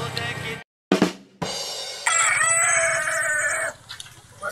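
A rooster crows loud and close in one long drawn-out call, with clucking and farmyard noise around it and a brief silent gap early on.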